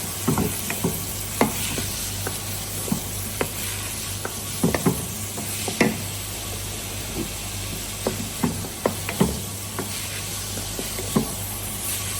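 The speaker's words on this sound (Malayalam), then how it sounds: "എണ്ണ വെച്ച് കുറച്ച് ജീരകം ഇടുക അതിലേക്ക് ചെറുതാക്കി അരിഞ്ഞ ഉള്ളി ഒരു മൂന്നുള്ളി" Chopped onion and cumin sizzle steadily in hot oil for mutton keema, with a constant close frying hiss broken by sharp scraping stirs and clinks of a spoon.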